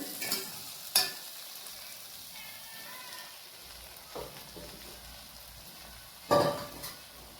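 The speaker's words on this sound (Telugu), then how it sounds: "ఇది బాగా కలిపేస్తూ సిమ్లో పెట్టుకొని అన్ని ఫ్రై చేసుకోవాలండి." Rice being stir-fried in a pan with potato and carrot on a low flame, a soft scraping and stirring texture with a few louder clatters of the spatula, no talking.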